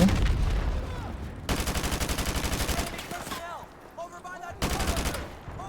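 Loud automatic gunfire bursts in the video game Call of Duty Modern Warfare Remastered, rapid rattling volleys in several bursts with brief pauses and some game ambience between them.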